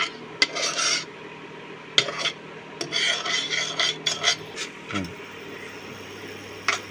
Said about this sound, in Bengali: চিনিটাকে চুলার মধ্যে খুব ভালো করে নেড়ে চেড়ে নিচ্ছি